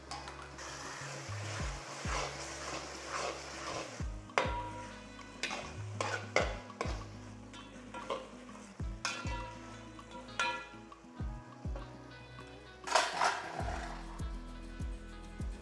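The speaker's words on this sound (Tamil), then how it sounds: "தக்காளி வெங்காயம் எல்லாமே நல்லா வதங்கட்டும்" Tomatoes and onions sautéing in oil in a pot for mutton dum biryani, with repeated stirring scrapes and clanks of a utensil against the pan over a soft, steady sizzle, close by, no talking.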